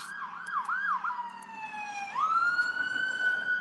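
A passing emergency vehicle siren wails through rising and falling yelps, then settles into a long, steady tone that swoops upward and holds, fairly loud and clear with no voices over it.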